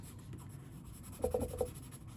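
A soft 6B graphite pencil shades on paper in quick light strokes, a faint scratchy rasp with a few brief taps late on, close and quiet over low background hiss.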